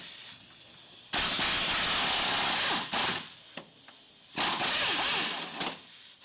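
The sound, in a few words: deep socket loosening Toyota Camry lower control arm bolts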